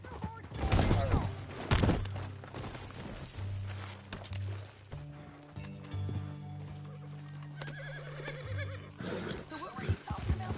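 In the Red Dead Redemption 2 video game, a horse snorts and whinnies with hooves clopping nearby, several loud bursts amid a low ambient music bed, with voices talking in between.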